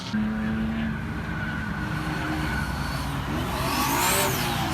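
A loud straight-piped BMW engine roars steadily throughout, with a sharp, raspy exhaust note that rises in pitch toward the end.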